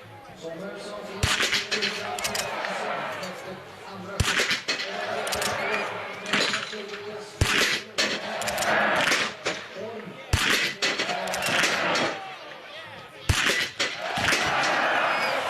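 Biathlon rifle shots at the shooting range during a men's 20 km World Cup race in Ostersund, Sweden: five sharp cracks spaced a few seconds apart, set against steady crowd noise and a commentator talking throughout.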